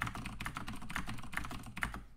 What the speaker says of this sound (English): Sorry for my loud keyboard.